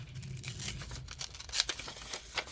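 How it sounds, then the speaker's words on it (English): Scissors cutting a piece of craft paper for a junk journal, a few crisp snipping and rustling strokes, close and moderately loud. "And I cut a piece of my paper."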